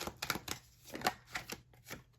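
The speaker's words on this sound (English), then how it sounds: "Let me shuffle a bit better." A deck of tarot cards is shuffled by hand in quick, soft riffling bursts and light slaps, close and quiet, about half a dozen short flutters over a couple of seconds.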